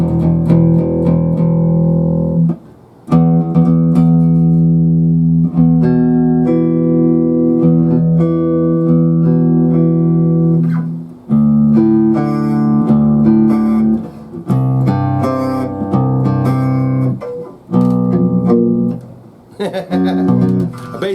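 Jackson 5-string bass guitar played through a guitar amp, with sustained distorted notes and chords ringing out, brief pauses, then busier runs. Loud and close, with no talking over it.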